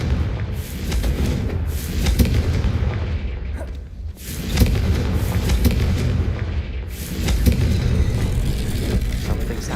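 Confringo blasting spell explosions in Hogwarts Legacy, a string of heavy, rumbling booms and bursts that sound loud and close, with brief dips between blasts and a continuous low roar underneath.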